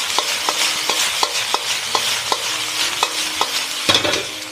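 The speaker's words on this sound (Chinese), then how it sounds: "现在把银芽倒入， 大火快速翻炒，" Bean sprouts tossed in a hot wok over high flame, a steady bright sizzle punctuated by regular sharp scrapes of the spatula against the metal, about two strokes per second, close and fairly loud.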